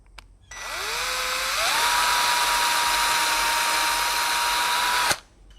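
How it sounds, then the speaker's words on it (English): Electric drill bores out a hole to 7/32 in a small wooden birdhouse ornament, spinning up with a rising whine, then holding a loud, steady high-pitched drone for about four seconds before cutting off abruptly, with no talking. "We're going to enlarge that hole to 7/32 and hopefully that makes it usable."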